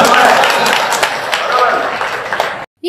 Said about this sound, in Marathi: आता टाळ्या वाजवा